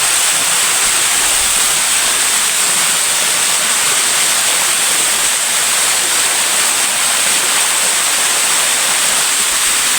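A steady, loud roar of falling water fills the whole clip, broad and constant with no pauses or voices.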